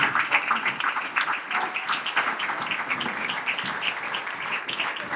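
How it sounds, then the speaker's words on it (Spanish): A church congregation applauds during a sermon, a dense, steady round of many hands clapping, loud and close, holding for several seconds. "¿Cuánto dan un aplauso al Señor Jesucristo?"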